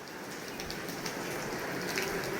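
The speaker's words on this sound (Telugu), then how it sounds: "వర్షం చాలా బాగా పడుతుందండి, భలే ఉంది ఈ ఫీలు." Heavy rain pours steadily in a village setting, a dense, even hiss of drops with occasional sharper patters, close and continuous.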